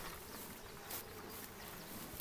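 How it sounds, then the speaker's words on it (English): Honeybees drone in a steady, busy hum around a hive opened for inspection after smoking, close and continuous with faint rising swells, and nobody speaking. "We have a lot of activity going in the hive and that's really good."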